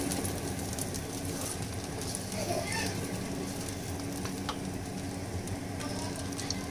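Singaporean fried noodles being stir-fried in a pan, a faint steady sizzle with occasional stirring scrapes, low in level and continuous throughout.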